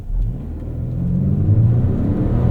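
A 2024 Lincoln Nautilus Black Label pulls away hard from a standstill, heard from inside the cabin as a close, rising engine rumble and whir that builds steadily over a couple of seconds without speech.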